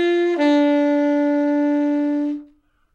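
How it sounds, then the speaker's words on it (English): A jazz saxophone plays a short opening phrase: a brief grace note slides into one long, steady sustained tone, close and fairly loud, then fades out after about two seconds, played alone without talk. "My very first phrase might sound like this."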